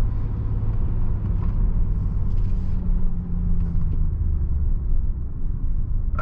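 Inside a pre-facelift BMW 730d E38 with a 184 hp diesel engine, a steady low rumble of engine and road noise fills the cabin as the car drives along, with no voices.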